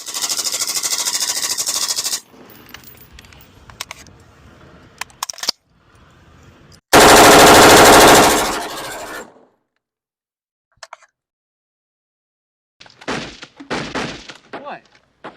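An M16A1 rifle fires M193 ammunition in loud, sharp bursts of rapid shots, separated by quieter mechanical clatter, short pauses and near silence.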